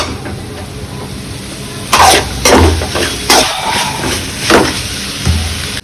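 Masala sautéing in a pan for chicken drumsticks gives a steady close sizzle, broken by several louder bursts of stirring and scraping against the pan.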